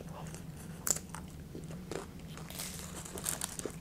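Someone bites into a crunchy Taco Bell taco in a few crisp, close crunches followed by chewing, with no talking.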